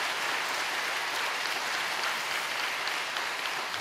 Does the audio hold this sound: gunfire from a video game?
no